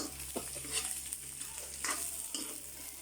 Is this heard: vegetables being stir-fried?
yes